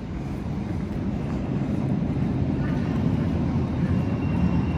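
Steady, dense rumble fills a Vienna metro station, a constant low roar of trains and passageway noise with no clear breaks, fairly loud and close throughout.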